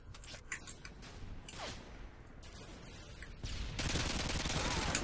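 Underbarrel shotgun blasts in Modern Warfare 2 gameplay, a few sharp bursts amid game noise, then a loud sustained roar of gunfire near the end.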